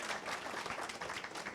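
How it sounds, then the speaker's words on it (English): Steady applause from the audience at a political candidates' forum, dense overlapping clapping, fairly quiet and even throughout, no voices on top. "Let's give Barry a round of applause."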